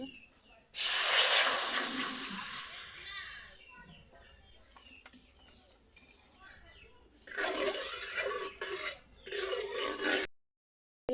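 Water poured into a hot pan of fried dried Bombay duck fish bursts into a loud hissing sizzle that fades over a few seconds; softer clattering and voices follow later.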